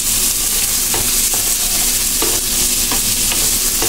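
Onions frying in oil for shak dal, browning under a constant loud sizzle with repeated scraping strokes of a spatula, close up and without talk.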